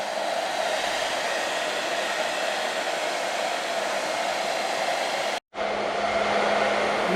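A hair dryer blows steadily while warming a car part during a repair, loud, close and constant, cutting out briefly near the end and then starting again.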